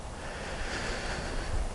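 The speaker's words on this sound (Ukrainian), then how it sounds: "Погодка, звісно, сьогодні трошки вітер такий поривістий." Gusty wind on a riverbank in November buffets the microphone in a continuous rushing roar, with a slightly stronger gust near the end, no voices present.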